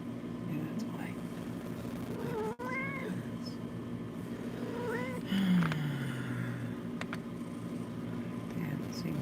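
A cat meows several times at close range, with rising and falling cries and one longer drawn-out meow, over a low background hum and quiet talk.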